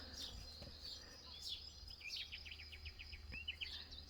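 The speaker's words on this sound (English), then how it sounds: "You hear the birds" Birds chirp and call outdoors on a quiet rural farm property, short faint tweets scattered over a low steady background hum, with no one talking.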